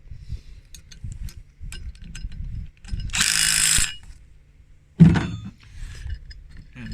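A 1/2-inch socket wrench ratchets while snugging bolts onto a bracket during a combine reverser install: scattered clicks, then a loud burst of rapid ratcheting lasting nearly a second, and a sharp metallic clank afterward, close up with no talking.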